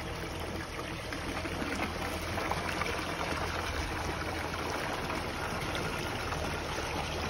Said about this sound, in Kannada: ಬಿಡು ನೀರು